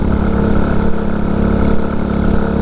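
A dirt bike engine idles after an adjustment to its idle screw, a steady, even low-pitched running note that holds throughout without revving.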